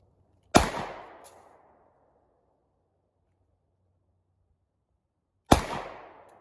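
Two loud, sharp pistol shots from Glock and Taurus handguns, several seconds apart, each with a quick crack and a trailing echo, fired outdoors with near silence in between.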